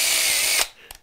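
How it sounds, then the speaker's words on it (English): A power drill bores a countersink hole in wood while making a panel gauge, running loud and steady for about half a second before it stops, followed by a faint click. "Do the countersink."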